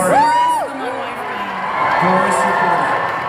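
Convention audience at a Hazbin Hotel panel cheering and whooping, a short burst of loud crowd noise with a rising yell at the start, mixed with nearby voices talking over it.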